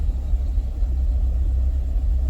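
A car engine without balance shafts rumbles roughly while driving, a loud, continuous low drone heard from inside the vehicle with no voices.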